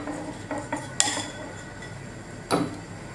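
A spoon clinks against a glass jar while a homemade garlic and cinnamon remedy mixture is spooned in: two sharp, close metallic taps about a second and a half apart over a quiet room, with no talking.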